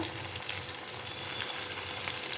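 Onions fry in a pan for a tomato curry, giving a steady, close sizzle with faint scraping from stirring, and no talk over it.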